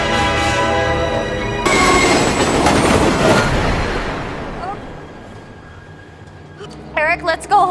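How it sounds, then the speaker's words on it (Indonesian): A train in the film Passengers rumbles loudly past with clattering wheels and a rising metallic squeal, then fades away, with brief voices at the end. "Eric pun menunggu di rel sampai kereta api menabraknya"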